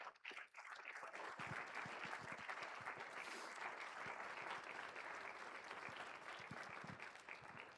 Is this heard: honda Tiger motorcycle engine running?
no